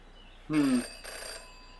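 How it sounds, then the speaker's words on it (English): A telephone rings twice in the detective adventure game Jenny LeClue, two short electronic bursts separated by a brief pause over a quiet background hum. "In her short time as a detective, Jenny had learned never to ignore a ringing phone."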